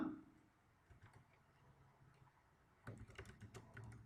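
Keys on a computer keyboard tapped while writing PHP code, quiet scattered clicks at first and then a denser burst of typing near the end, faint and close.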